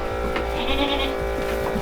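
A pygmy goat on a farm lets out a drawn-out bleat, close and clear over steady background noise.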